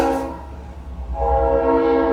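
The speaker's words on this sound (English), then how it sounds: "y'all excuse the train" A train rolls past close by with a steady low rumble, its horn sounding in long sustained blasts that fade briefly and then return loud; no one speaks.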